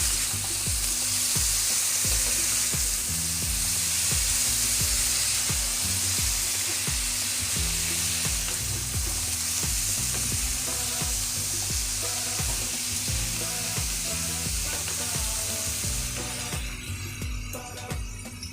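Mixed vegetables for a wedding-style roast sizzle loudly in a pan with salt and turmeric, stirred in steady repeated scrapes throughout, the frying softening slightly near the end.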